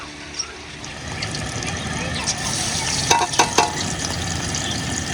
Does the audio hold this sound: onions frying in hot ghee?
yes